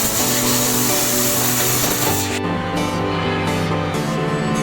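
A CNC fiber laser machine cuts 1 mm stainless steel sheet with a 13 bar compressed-air assist, giving a steady loud hissing whoosh and machine hum that drops sharply partway through, then continues in short pulsing bursts.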